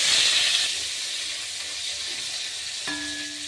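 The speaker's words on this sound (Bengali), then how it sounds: "এবার ভেজে নেব কেটে রাখা ইঁচড়।" Cut jackfruit frying in hot oil gives a steady, close hiss and sizzle that stays even throughout, with a brief clink near the end and no voices.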